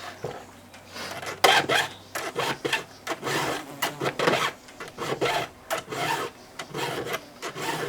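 A file squaring the teeth of a chainsaw chain, close and loud, with a run of distinct rasping strokes in an uneven rhythm, each a short gritty scrape with brief pauses between.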